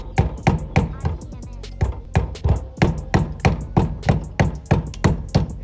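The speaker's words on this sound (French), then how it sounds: "Je tape pas fort." An aluminium 86top scooter engine being taken apart while still mounted on the bike takes a quick, steady run of moderate metallic taps and knocks, close by and evenly spaced.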